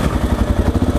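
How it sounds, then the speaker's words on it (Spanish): A cold Honda Dominator motorcycle engine turns over and catches, its loud, close, pulsing low beat settling into an uneven idle. "cojo el embrague para arrancar"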